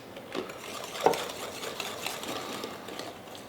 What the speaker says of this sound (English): Now I'm going to add the cornstarch and continue to whisk, make sure there's no lumps.